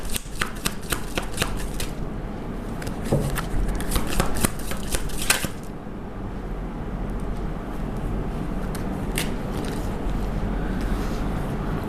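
Tarot cards being shuffled and drawn by hand: a quick run of crisp, close riffling flicks in the first half, then sparser single card snaps and slides, with no talking over it.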